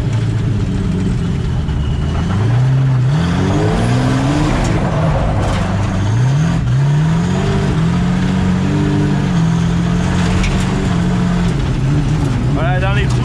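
A V12 bi-turbo car running on ethanol accelerates hard, its engine climbing through repeated rising pitch sweeps between gear changes, loud and close from inside the cabin, with someone talking over it.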